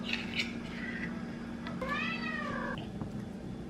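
Pet cat meowing in a kitchen while waiting to be fed, a few short calls and then one longer, rising-falling meow, fairly close in a quiet room.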